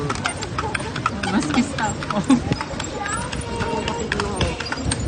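Horse hooves clip-clopping on a street in Cebu City while pulling a kalesa carriage, a steady rhythm of close hoof strikes under people talking and traffic noise.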